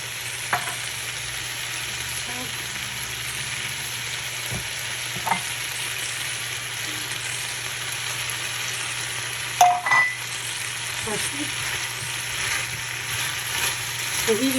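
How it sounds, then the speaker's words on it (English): Vegetables sauté in coconut oil with oregano and pepper added, a steady close sizzle and fry running throughout, broken by a few soft clinks and stirring scrapes of a utensil in the pan. "I'm sauteing with coconut oil, and now I'm adding oregano"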